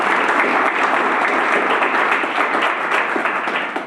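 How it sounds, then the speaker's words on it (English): Loud, sustained applause from a live audience at a college and county event, a thick continuous wash of clapping that holds steady throughout before easing slightly at the end. "let's give them a round of applause"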